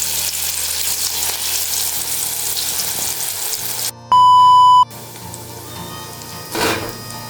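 Soya paneer pakoda batter frying in hot oil in a kadai gives a loud, continuous sizzle, cut briefly by a sharp electronic beep before the crackling resumes.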